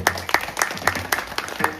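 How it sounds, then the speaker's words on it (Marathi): An audience at a kirtan religious gathering breaks into applause, sharp hand claps arriving in a quick, uneven patter that sounds near and fairly loud. "या सगळ्यांसाठी एकदा जोरदार अशा टाळ्या वाजवा"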